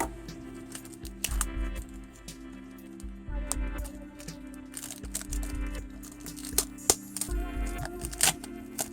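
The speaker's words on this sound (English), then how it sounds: "let's cut the plastic and break this bad boy open" Plastic shrink wrap is sliced and crinkled off a boxed Deadly Premonition Classified Edition video game, close-up scratchy cuts and crackles over a low steady background hum.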